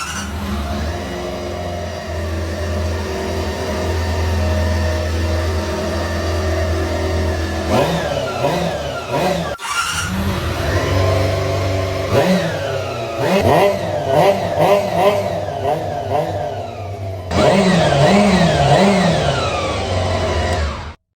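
A 1990 Honda motorcycle engine idles steadily, then is revved several times in rising and falling bursts, loud and close, with no talking.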